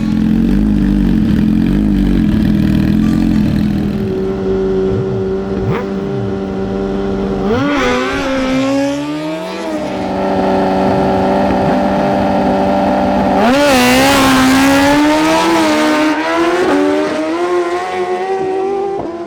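Suzuki GSX-R1000 sport bikes at a drag race, engines roaring loud and close through hard revving runs and rising gear changes, with a second surge of acceleration later on.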